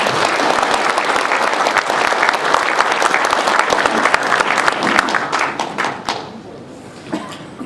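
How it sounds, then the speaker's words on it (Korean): Loud, dense audience applause welcomes a guest lecturer at a Korean veterans' forum, holding strong for about six seconds before tapering off into a few scattered claps and thumps. "박수로 환영해 주시면 감사하겠습니다"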